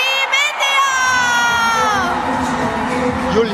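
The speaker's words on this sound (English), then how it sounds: "You'll hear the loudest cheer and the words Chak De India" A large crowd cheers and shouts loudly for Team India at the men's regu final of the Sepaktakraw World Cup, with high excited yells and sustained roaring that swells and holds.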